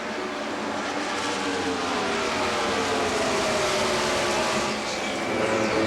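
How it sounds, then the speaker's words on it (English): A 1997 Indy Racing League car screams around Charlotte Motor Speedway at over 200 mph, its engine a loud, sustained high-pitched roar with a steady pitch that rises and falls, heard up close from onboard. "As you ride with Scott Goodyear around Charlotte Motor Speedway at well over 200 miles per hour"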